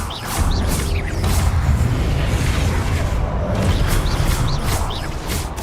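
Repeated Confringo blasting spells in Hogwarts Legacy, a run of booming impacts and crackling bursts with whooshing streaks, several explosions in quick succession over dense low rumble.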